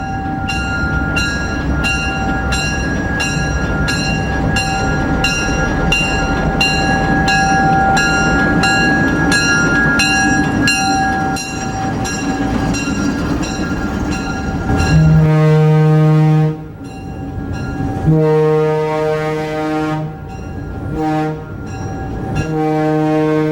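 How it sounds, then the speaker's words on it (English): An Alco diesel locomotive rolls along a street track, its engine rumbling steadily before it sounds a loud, repeated deep horn in several blasts, close by and with no talking. "After crossing busy Jones Street, also a state highway, the locomotive squeezes through an alleyway past a food store."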